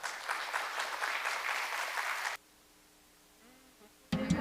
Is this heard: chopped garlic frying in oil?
no